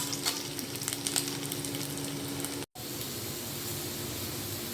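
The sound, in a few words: potatoes frying in oil for chicken curry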